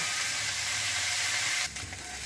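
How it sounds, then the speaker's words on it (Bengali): Prawns frying in oil for a Bengali home-style dish, a close, steady sizzle that drops slightly in level near the end. "চিংড়ি মাছটা এইভাবে ভালো করে আমি ভেজে নামিয়ে নেব।"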